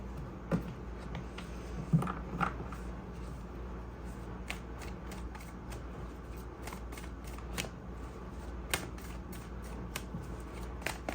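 A deck of tarot cards is shuffled by hand in soft riffling bursts with occasional sharper taps and flicks, close and fairly quiet, with no talking.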